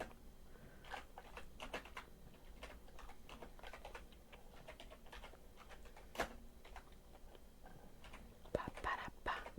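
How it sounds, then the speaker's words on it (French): Close-up ASMR typing on a computer keyboard: a steady stream of irregular soft clicks and taps, with a few sharper, louder keystrokes near the end and faint murmured speech underneath. "Petit ASMR clavier"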